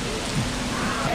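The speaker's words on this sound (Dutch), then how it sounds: "Af en toe dan regent het keihard" Heavy tropical downpour in Malaysia heard from under a bus-stop shelter, a steady, dense broadband wash of rain close by with no pauses.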